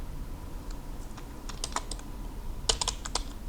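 Typing on a computer keyboard as a command is entered, with scattered soft key clicks that build to a quick burst of taps near the end in a quiet room.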